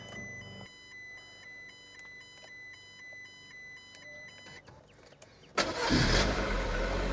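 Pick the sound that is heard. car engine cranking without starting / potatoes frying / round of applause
car engine cranking without starting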